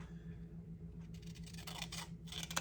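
Scissors snip the bottom off a paper tag in a few quick, faint crisp cuts near the end, over a quiet low electrical hum; no one speaks.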